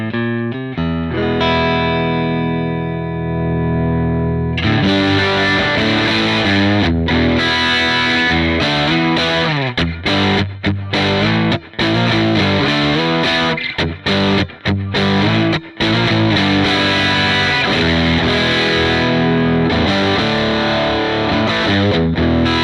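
Electric guitar with a broken-up crunch tone from a ToneX amp capture in a signature collection, first a sustained ringing chord, then loud strummed chords and choppy riffs with short stops, played alone.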